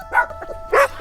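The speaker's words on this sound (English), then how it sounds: "A dog." A dog gives two short, close barks, with a softer yip between them, against a quiet background.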